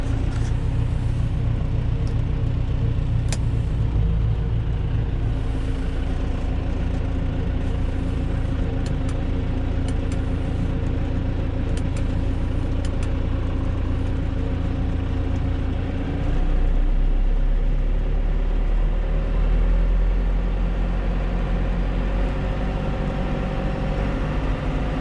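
A John Deere 6310 or Massey Ferguson 3505 tractor engine runs steadily with its PTO engaged, a close, continuous low rumble that shifts slightly in load partway through, with no talking.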